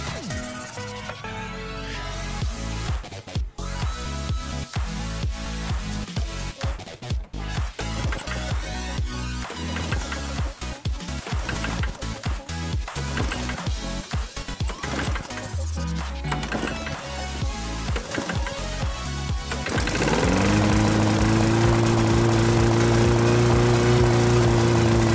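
Small lawn mower engine, a rough-running machine with carburetor trouble, heard through a long stretch of clattering pulls and handling noises, then firing up and running loud and steady for the last several seconds.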